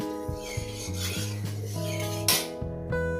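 Ginger, dried chilli, cumin, coriander powder and turmeric powder being ground into a fine paste, a close, rough rasping rub in repeated strokes with no talk.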